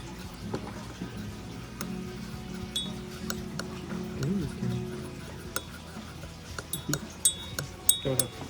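A spoon clinks against a cup as a drink is stirred in Mindo, Ecuador, making light, scattered ticks and taps under ongoing conversation.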